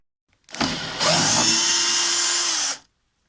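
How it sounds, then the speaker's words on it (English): Power tool whirring while unbolting the cabinet of a Ryobi RTS-1800 table saw: a short burst, then one steady, loud, close run of about two seconds that stops abruptly, with no talk. "Now I just need to remove the tabletop and unbolt the cabinet, then I can flip over the saw."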